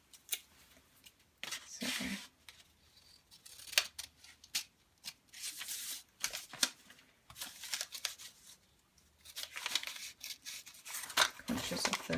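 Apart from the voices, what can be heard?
scissors cutting paper flaps for kirigami bows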